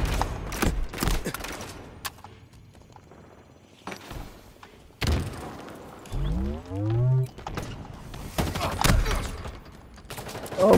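Bursts of gunfire and impact sounds from the video game Halo Infinite come in sharp clusters, with scattered shots, louder rising whooshes and effects mid-way, and dense game action throughout.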